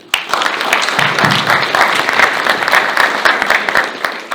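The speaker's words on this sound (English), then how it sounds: "everyone give a round of applause to Q" An interview audience gives a round of applause, steady dense clapping that starts abruptly and carries on for several seconds, fairly close and alone.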